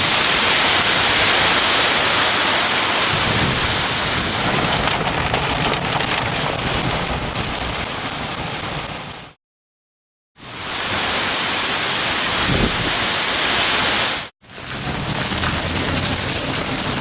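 Heavy rain pours down in a dense, loud, steady hiss that runs without a break except for two short cuts to silence; no thunder stands out clearly and no one talks.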